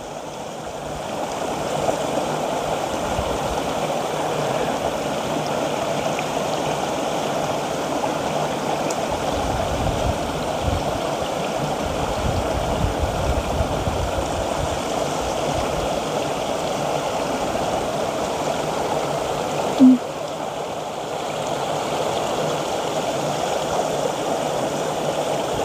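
A mountain stream flows steadily among trees in spring, a continuous rushing and babbling of water heard close and alone, with a brief knock near the end.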